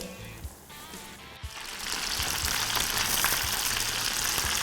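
Chicken croquettes coated in egg and breadcrumbs frying in hot fat; after a quiet start with a couple of soft knocks, a loud, continuous crackling sizzle rises and stays steady nearby.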